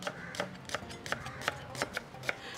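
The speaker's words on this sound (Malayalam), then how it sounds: "ഇനി പൊരിക്കാൻ ഉള്ളിയാണ് നമുക്ക് ഇത്ര നല്ല ബ്ലേഡ് പോലെ നേരിയതാക്കി മുറിക്കണം." Onions being sliced very thinly with a knife on a board for Kozhikode dum biryani, a faint, steady series of about eight rhythmic chopping taps.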